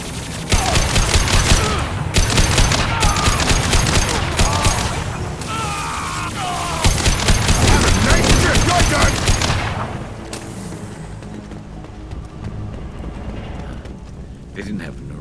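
Dense, rapid gunfire and concussive shot blasts from a Mass Effect 2 firefight, loud and continuous for about ten seconds before dropping to a quieter, sparse stretch with a few faint hits.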